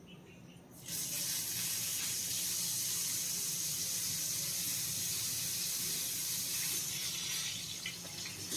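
Cut eggplant pieces hit hot oil in a pan, and a sharp hiss of sizzling starts suddenly after a second, then continues as a steady, fairly close frying sizzle with no talking.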